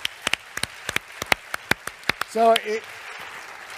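A small audience gives a short burst of scattered handclaps at a manufacturers' productivity session, about a dozen sharp claps over two seconds, then a brief voice speaks.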